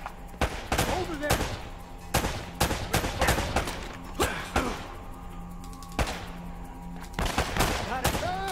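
Gunfire in the video game Uncharted: Drake's Fortune: close, loud bursts of shots fired in quick clusters with short pauses between volleys, repeated across the whole stretch.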